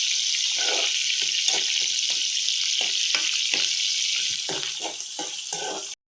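Potatoes with onion and green chilies fry in a pan for a potato capsicum curry, a loud, continuous sizzle broken by repeated scraping stirs, ending abruptly.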